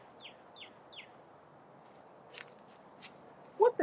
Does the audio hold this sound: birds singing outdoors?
yes